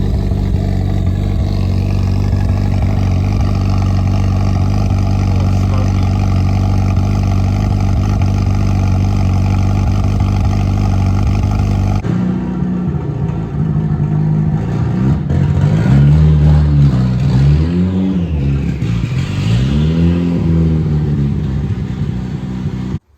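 A swapped turbo 4G63 with a 20G turbo and an open downpipe in an all-wheel-drive 1992 Mitsubishi Expo van idles with a steady rumble, then revs in several loud rising and falling pulls, close up.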